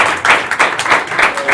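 An audience at a Romanian talk or discussion event clapping together, a brief, close burst of steady applause with regular pulses of hand claps.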